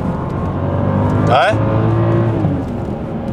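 A used BMW X6 drives on a road, heard from inside the cabin as a steady, loud engine and tire drone. A person makes a brief vocal sound partway through.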